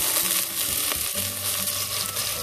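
Chopped garlic and diced potatoes tipped into a hot pan with mustard seeds, a loud continuous sizzle with a rattle as they drop in; no talking.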